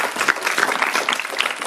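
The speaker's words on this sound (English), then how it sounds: "I think we should give everybody a big round of applause." A dinner audience at a multicultural engineering and STEM event breaks into steady, dense applause. The clapping fills the room evenly and continuously from start to finish.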